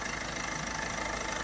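A small Ford Transit Connect 1.5 TDCi diesel engine idles with a steady, even rumble and a faint rhythmic clatter, close up and unchanging.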